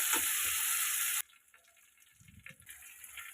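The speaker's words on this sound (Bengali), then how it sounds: "আমি এবার এর মধ্যে দিয়ে দেব আমার সিদ্ধ করে রাখা ডালটা" Boiled mung dal is poured into a pan of sizzling fish head in oil, giving a loud hissing rush at first that cuts off sharply into quieter bubbling and faint sizzle.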